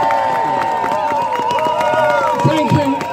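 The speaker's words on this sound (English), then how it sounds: "applause, a big welcome to Jeremy Corbyn MP" Crowd at an anti-nuclear, anti-war demonstration welcoming a speaker with applause and cheering, a busy roar of clapping and voices with shouts rising over it.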